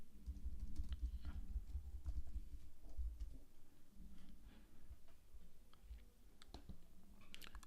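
Steady clicking of keys being typed on a computer keyboard, close and moderately quiet, with quick irregular taps continuing throughout and no one talking.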